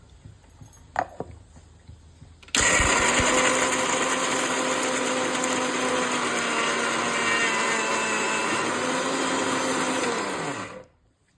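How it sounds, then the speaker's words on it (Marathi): A mixer grinder whirs loudly and steadily for several seconds before winding down, grinding peanuts inside; a couple of faint clicks come first. "ह्या मिक्सरमध्ये साधारणपणे अर्धी पाऊण वाटी आपण दाणे घातलेले आहेत आणि ते मिक्सरमध्ये बारीक करून घेणार"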